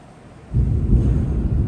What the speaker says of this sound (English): You can hear that thunder.